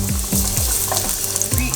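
Shallots dropped into a hot frying pan for a yucca beef curry, a steady close sizzle with soft stirring scrapes.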